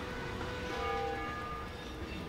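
Heavily loaded freight train, full with 40 tonnes of cargo, hauling along the track in the video game Bounty Train, a steady low rumble with faint tonal whistle-like lines, heard alone without talk.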